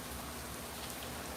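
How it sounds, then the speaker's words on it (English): Steady rain falls in a dense, even patter of raindrops, filling the whole short stretch at low volume with no voices. "Just as every drop of rain is part of this sound journey."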